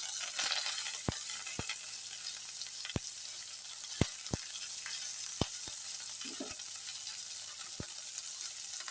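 Onion pieces and curry leaves crackle softly in hot oil, a quiet continuous sizzle broken by sharp spatula clicks against the pan at irregular intervals.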